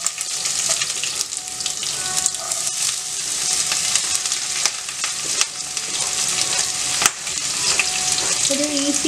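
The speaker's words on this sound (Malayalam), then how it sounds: "അതിലേക്ക് നമുക്ക് സവോള, ഇഞ്ചിയും പച്ചമുളകും ഓരോന്നായിട്ട് ഇട്ട് കൊടുക്കാം." Onion, ginger and green chili frying in a pan for a Kerala-style chicken curry, giving a steady, close sizzle with occasional crackles and stirring scrapes throughout, no talking.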